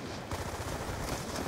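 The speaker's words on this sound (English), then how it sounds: "Some guy's shooting at me." Dense, continuous automatic gunfire in Call of Duty Black Ops rattles in a rapid stream, a fairly quiet, crowded burst over the whole brief moment.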